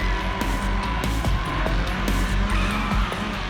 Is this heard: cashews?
no